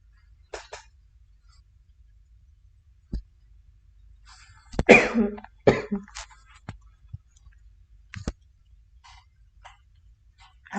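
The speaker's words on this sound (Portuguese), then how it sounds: "só um segundinho aqui que eu tô tossindo" Several coughs spread through the stretch, a few short isolated ones and a cluster of harsher, louder coughs in the middle, close to the mic; allergy coughing during a lecture.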